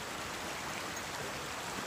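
Water flows steadily along a creek bed on a trail near McAfee Knob, Virginia, a soft continuous rush at moderate distance with no voices.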